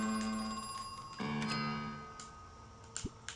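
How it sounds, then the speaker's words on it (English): A telephone rings in the horror video game Crow Country, a quiet electronic ringing with a few soft ticking clicks, heard alone without talk. "I thought I could hear the phone ringing"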